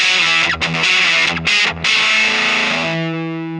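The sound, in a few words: electric guitar through Voltic boutique fuzz pedal with germanium diodes, gain cranked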